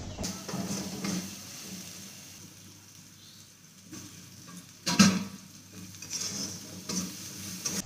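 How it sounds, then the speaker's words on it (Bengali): Spice masala stir-fried in a pan, a soft continuous sizzle with intermittent scraping of a spatula and one louder clatter midway, close and fairly quiet. "এখন ভালো করে মশলাটা কষিয়ে নেব"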